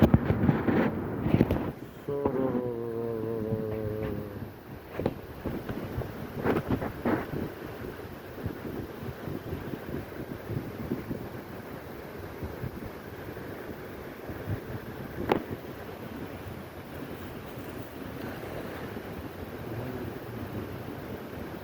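The Seti river rushes in a continuous broadband wash mixed with wind buffeting the microphone. A few brief tonal bursts stand out near the start, then the flow settles into a steady, moderately quiet roar.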